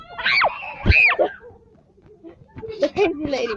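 Young cousins shriek and scream in bursts while playing a running game, loud high-pitched cries near the start and again toward the end, mixed with excited chatter.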